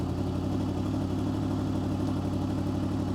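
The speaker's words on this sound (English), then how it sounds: "as you can hear, the RPMs are going up" A Honda VFR800 VTEC motorcycle engine idles with a steady, low, even hum throughout, heard alone at a moderate level.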